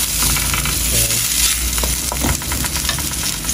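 Brinjal frying in a little oil in a pan, a steady close sizzle with stirring scrapes running throughout, no talk.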